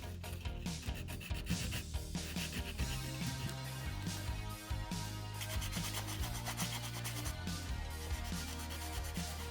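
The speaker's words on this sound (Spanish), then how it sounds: "Extraemos estas piezas y le damos una lijada para quitar las marcas de la matriz" Laser-cut wooden keel pieces from a model ship kit being sanded by hand, a quick run of rhythmic rasping strokes of close, soft scratchy rubbing with no talk.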